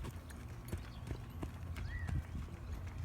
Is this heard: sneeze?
no